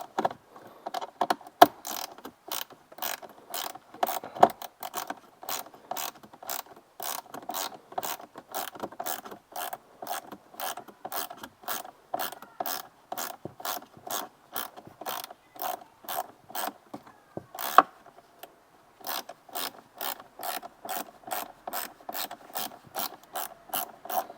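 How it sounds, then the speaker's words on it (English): A ratcheting tool backs out T20 screws on a BMW M5 interior with a long run of rapid, evenly spaced clicks, close and crisp, with a brief break near the end. "And all the screws we are taking out are all T20s"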